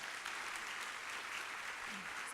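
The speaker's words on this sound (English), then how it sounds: "So big round of applause for Mr. Trevino." A conference audience claps together in a steady, dense round of applause that carries on evenly throughout, with a faint murmur underneath.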